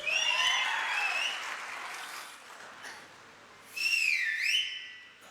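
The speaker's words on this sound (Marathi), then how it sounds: "आणि ऍडव्हान्स टाळी वाजवायची का आता? वाजवा." Crowd applause at a BJP political rally for the 2026 Solapur Zilla Parishad and Barshi Panchayat Samiti elections, a broad steady clapping wash with shrill whistles swooping over it at the start and again near the end.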